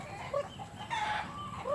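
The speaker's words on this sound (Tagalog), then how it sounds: "Magpakain muna tayo ng mga manok" Farm chickens cluck softly at feeding time, a few faint, scattered calls over a low, quiet background.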